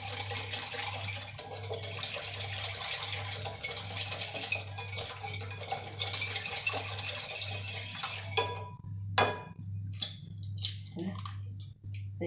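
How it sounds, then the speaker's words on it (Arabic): Ingredients being stirred together in a bowl, a continuous clinking and scraping of a utensil against the bowl, close and fairly quiet, with a steady hum underneath before the mixing stops and a few scattered clinks follow. "هنايا نخلطوا كاملين المكونات"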